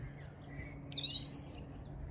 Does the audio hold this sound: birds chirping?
yes